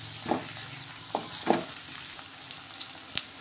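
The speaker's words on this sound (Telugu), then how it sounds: "క్యారెట్, క్యాప్సికమ్, వేసుకొని ఒకసారి కలిపేస్తున్నాను." Carrot and capsicum sizzle and fry in a pan as a spoon stirs them, with a steady crackle and a few sharp scraping clacks through the short stretch; no one speaks.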